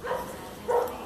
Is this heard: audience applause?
no